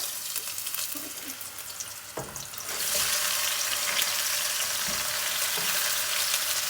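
About four to five chopped medium white onions hitting a hot pot for lamb Sindhi biryani, a quiet start, then a sharp clatter and a surge into a loud, steady sizzle that holds.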